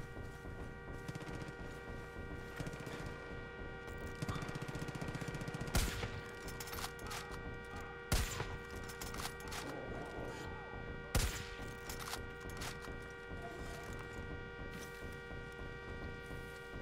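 Gunfire in a video game, a few sharp loud shots scattered over a steady humming background with faint intermittent crackle.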